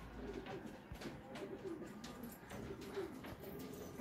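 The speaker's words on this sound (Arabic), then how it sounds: "هاي الحمام ما شاء الله" Pigeons cooing softly at a distance, repeated low coos over faint outdoor background noise, with no clear talk.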